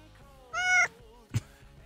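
A female house cat gives one clear, fairly loud meow lasting about a third of a second, followed shortly by a brief chirp, all over soft background music in a quiet indoor room.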